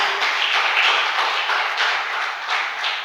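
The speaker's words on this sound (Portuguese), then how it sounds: "Você pode aplaudir o Senhor por isso aqui?" Congregation applauding in a church service, a steady broadband wash of many hands clapping together, fairly loud and sustained throughout with no talk over it.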